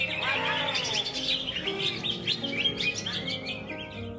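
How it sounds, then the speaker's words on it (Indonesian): A young green leafbird (cucak ijo) sings in a rapid stream of bright chirps, whistles and trills, close and continuous, with no talk over it. "Contoh cucak hijau ini dia masih umurnya muda para kawan"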